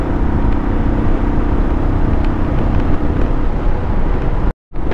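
Motorcycle riding on a road in summer, a steady loud engine rumble mixed with heavy wind buffeting on the microphone, continuous for several seconds before a sudden brief dropout near the end, no talk.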